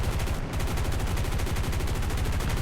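Rapid machine gun fire from a P-47D-28 Thunderbolt fighter in the War Thunder video game, a dense unbroken stream of loud, fast shots running steadily over engine drone.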